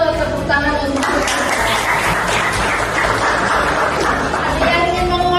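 Students clapping hands in a classroom, a steady loud burst of applause mixed with chatter and voices throughout.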